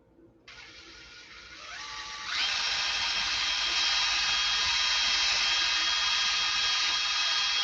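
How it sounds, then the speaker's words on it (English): Power drill boring down through the center of a workpiece, a steady high whine that starts up and then rises in pitch and loudness before holding close and constant, with no talking. "Now we drill down through the center."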